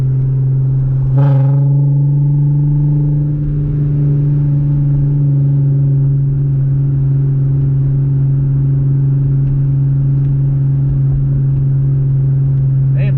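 A car cruises along on a drive after a brake line installation, a loud, steady engine hum heard from inside, with a brief bump early on and no talking.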